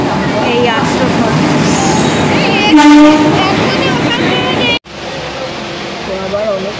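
A train rumbles along loudly with rhythmic rail noise, its horn blaring in one sustained blast midway, before the sound cuts abruptly to a quieter cabin din; voices murmur underneath throughout.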